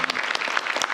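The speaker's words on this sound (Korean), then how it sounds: "박수 쳐주세요" Brief burst of clapping for a team leader at a Korean public agency briefing, a small group applauding quickly and fairly close for about one second.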